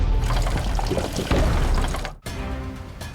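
Liquid gushes steadily from the half-full tank of a crashed semi truck on a BC highway at night, a loud continuous splashing pour with a brief dip near the end.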